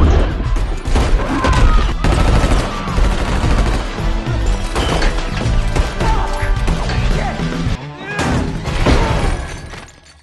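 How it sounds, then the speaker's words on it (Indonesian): A gunfight scene from the film Renfield, with loud overlapping gunfire bursts, crashes and impacts under a music score, dense and continuous throughout, with some voices mixed in. "Renfield pun tiba-tiba menyerang sehingga terjadilah baku tembak."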